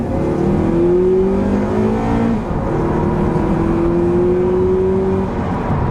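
A 2007 Acura TSX automatic with a VTEC engine accelerates hard up a highway on-ramp, its steady loud engine note climbing in pitch through the gears from inside the cabin, with no talking.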